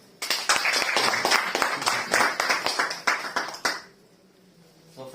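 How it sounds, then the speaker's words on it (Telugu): An audience at a business seminar in Visakhapatnam claps in a dense burst of applause lasting about three and a half seconds, then it dies away to near quiet. "తొందరగా ఒకసారి బిగ్ క్లాప్స్."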